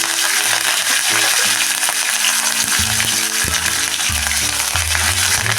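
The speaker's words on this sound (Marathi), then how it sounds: "कढीपत्ता थोडा जास्त चांगला परतून घ्या" Garlic cloves and curry leaves frying in hot oil with asafoetida for a moong dal and drumstick amti, giving a loud, dense, continuous sizzle over low tonal background music, heard close with no speech.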